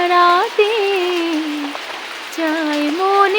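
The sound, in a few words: rain falling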